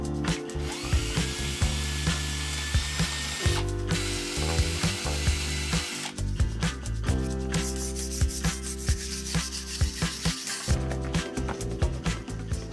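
A power drill running during a stone shed to stone house cottage renovation, a loud continuous grinding whir with repeated rhythmic ratcheting pulses and brief pauses between bursts, close by and without talk.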